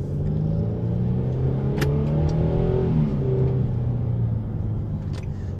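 A 2013 Infiniti G37xs sport sedan pulls hard in second gear, its engine rumbling steadily with a rising tone and a few faint clicks layered over the low drone.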